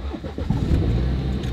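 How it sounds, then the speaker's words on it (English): A manual-transmission car in neutral with the clutch pressed cranks briefly and starts, then settles into a close, loud, steady idle. "Put it in neutral, push down the clutch, and start her up."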